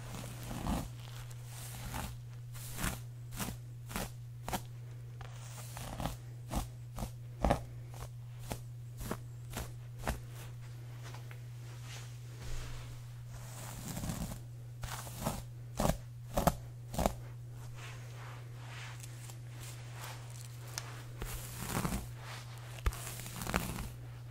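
Scissors trim real hair up close in a quiet room, giving a series of crisp snips at irregular intervals over a low steady hum.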